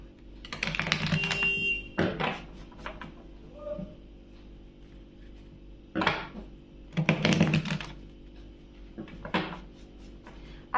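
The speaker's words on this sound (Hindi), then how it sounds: "बट कार्ड शफल तो जरूर होगा।" Tarot cards are shuffled in bursts, crisp riffling flutters and soft taps coming in two clusters separated by quieter pauses, close and fairly faint.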